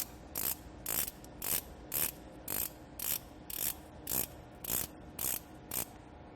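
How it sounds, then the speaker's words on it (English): A locking pawl clicks across the teeth of a CFM56 jet engine oil filter bowl as it is hand-tightened, about a dozen crisp ratcheting clicks at an even rhythm, close and isolated. "pay attention to this locking pawl and verify that it is properly seated in the teeth of the filter bowl"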